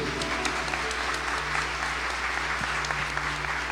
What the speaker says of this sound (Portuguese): Pode aplaudir esse Deus maravilhoso